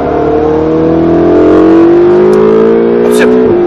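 A Ferrari 458 Italia V8 rises in pitch as it accelerates hard around a track, loud and steady from close by, with a brief voice cutting in near the end.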